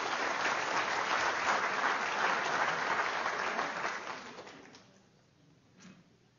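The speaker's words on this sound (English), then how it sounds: "Let's give Allison a nice round of applause" An audience at a mathemagic show claps in a dense, sustained burst that swells and then tapers off over the last couple of seconds, leaving a few stray claps and quiet room tone.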